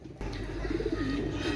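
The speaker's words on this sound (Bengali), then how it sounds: "এক জোড়া সাকি রেডি কবুতর মাশাআল্লাহ" A pair of Pakistani pigeons coo close by, a short low throaty rolling call standing out clearly against quiet background noise.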